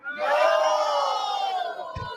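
Crowd at a live comedy show roaring a loud, sustained shout of agreement in unison, fading slightly toward the end.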